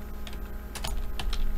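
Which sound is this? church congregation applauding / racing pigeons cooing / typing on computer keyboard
typing on computer keyboard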